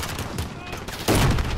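Shotgun fire in a Call of Duty: Modern Warfare match, a short burst of game shots ending in a louder, heavier blast, with faint talk underneath.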